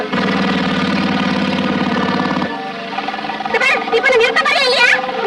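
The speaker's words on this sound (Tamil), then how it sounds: "ஏதோ வளர மோட்டர் பைக் தான் பின்னால வருது" A motorbike engine runs behind the scene, a steady mid-pitched drone that cuts off abruptly partway through, followed by excited voices talking.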